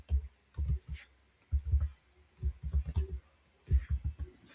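Keys clacking on a computer keyboard while a command is entered in a Kali Linux terminal, with irregular bursts of close, fairly soft keystrokes and short pauses between groups.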